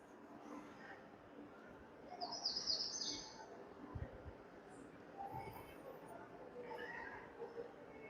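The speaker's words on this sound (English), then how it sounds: "It is nice that you can actually hear birds." Birds chirp in the open-air Central Park area aboard the cruise ship Allure of the Seas: a short, bright burst of tweets rises over a steady murmur of crowd noise and footsteps, with fainter calls scattered later.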